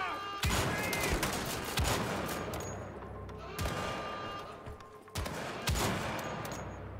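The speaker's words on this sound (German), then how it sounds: "Gott, das explodiert." Explosions and bursts of gunfire in the Wolfenstein: The Old Blood video game, several loud booming blasts in quick succession over rattling shots, with a player's voice speaking briefly in between.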